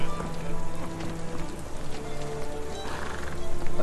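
A horse whinnies and snorts over steady rain and hoof clops in the video game Sherlock Holmes The Awakening, close and moderately loud, repeating through a few seconds.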